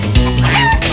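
A turkey gobbles and warbles loudly up close in a short burst of wavering calls, with no one talking.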